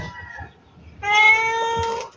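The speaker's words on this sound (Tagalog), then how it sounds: "Pati pusa, gutom na." A hungry cat gives a brief soft meow, then a louder, drawn-out tonal meow lasting about a second, close by, in a rural Bicol kitchen while vegetables are being cooked.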